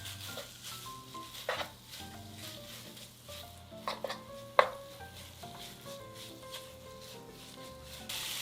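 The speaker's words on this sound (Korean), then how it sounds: "썰어놓은 소고기 넣고 불을 중약불로 올린 후에 같이 볶아주세요" Sliced beef stir-fried with chili powder in a pot sizzles quietly while a utensil scrapes and clinks against the pan in irregular strokes, with one sharper knock partway through and no voices.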